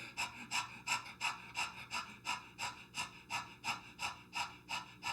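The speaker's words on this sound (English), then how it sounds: "go back to panting like a dog" Rhythmic open-mouth panting during a Kundalini breathing exercise, about a dozen quick, evenly spaced breathy huffs close to the mic, steady and unhurried, alone without talk.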